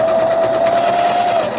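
Home sewing machine stitching elastic in place under the presser foot for pajama pants, a steady continuous motor whir with the needle running at an even pace, close and loud, slowing slightly near the end.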